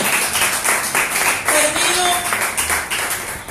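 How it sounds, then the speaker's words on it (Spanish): A church congregation claps continuously in a dense, even burst of applause, with voices faintly mixed in underneath. "Denle otro aplauso al Señor."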